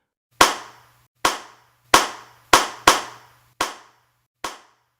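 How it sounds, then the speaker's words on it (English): Seven sharp, isolated hand claps ring out one at a time in a quiet space, each with a short decaying tail, spaced unevenly in a sparse rhythm, set in a creepy story. "Clap once for each person."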